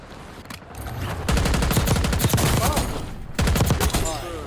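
Enemy gunfire in the Warzone shooter video game hits close to the player as loud, rapid automatic bursts. Two long sustained volleys are split by a brief lull.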